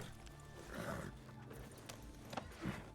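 A horse in the video game Red Dead Redemption 2 snorts and stamps with clip-clop hoof sounds, heard fairly close over a steady game background.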